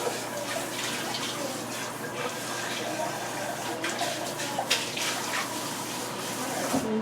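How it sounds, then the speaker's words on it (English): Tap water runs steadily over a small pan while making elderberry syrup, a constant close-up rush of splashing with a couple of brief clinks. "let me rinse this little pan"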